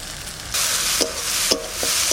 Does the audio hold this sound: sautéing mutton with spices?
yes